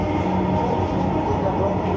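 Inside a Dhaka metro rail train moving fast, a steady, loud rumble of wheels and carriage noise fills the space continuously, with faint indistinct murmurs beneath it.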